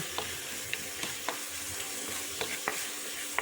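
Fish curry being stirred in a pan, a spoon scraping and clicking in scattered taps over a steady bubbling simmer, close and fairly quiet with no talk.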